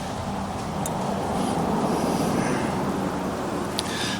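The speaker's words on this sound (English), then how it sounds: "Let this car go by." A car passing by outdoors near a house, a steady broadband rumble of tyres and engine that swells slightly through the middle and holds without a clear fade.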